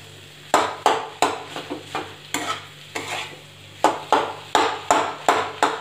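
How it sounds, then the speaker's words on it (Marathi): Diced potatoes mixed in hot oil in a pan for samosa filling, a loud close series of rhythmic stirring and scraping strokes, about a dozen in a row, over a soft sizzle. "बटाटा छान तेलामध्ये आता मिक्स करून घेणार आहोत"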